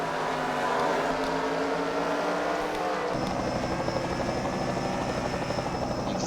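A helicopter films a car race at a racing event, its rotor and engine a loud, continuous rumbling drone that fills the whole stretch with no voices over it.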